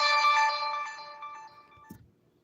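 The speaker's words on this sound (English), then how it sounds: "Sorry. Notifications." A phone plays a bright chiming notification tone with several ringing notes that fade over about two seconds, ending in a brief soft handling thump.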